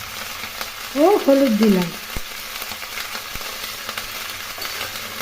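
Cauliflower florets fry in a pan with salt and turmeric, giving a steady crackling sizzle throughout. A voice speaks briefly near the start over the frying.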